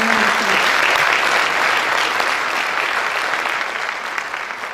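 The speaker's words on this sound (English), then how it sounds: "Let's give Senator Gooch a round of applause." A crowd at a 2016 county chamber of commerce primary election candidate forum breaks into loud, sustained applause, dense clapping filling the room and tapering slightly as it continues.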